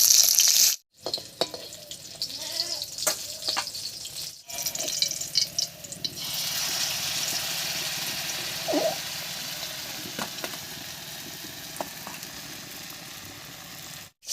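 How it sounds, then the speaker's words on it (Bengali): Pumpkin-leaf fritters with dried fish fry in hot oil. A continuous bubbling sizzle carries through, with scattered pops and a few clinks of utensils near the pan. "সবগুলো বড়া ভাজা হয়ে গেছে এবার নামিয়ে নিচ্ছি"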